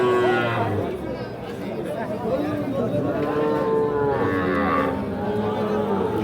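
Bull calves moo repeatedly at a busy cattle market, their drawn-out calls rising over a constant background of crowd chatter and talk.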